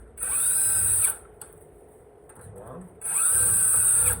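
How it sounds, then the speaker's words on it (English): A power screwdriver with a Phillips bit backs out foot pad screws on a Floatwheel ADV2 electric skateboard, whirring loudly in two bursts with a quieter gap between. A voice counts briefly in the pause. "change the bit to the Phillips screwdriver and remove 4 of the screws holding"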